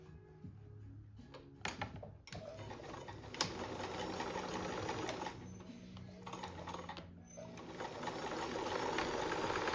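A sewing machine zigzag stitching the edges of a zippered seat cushion cover, a steady rapid mechanical whir close by with a few short stops and restarts, no talking.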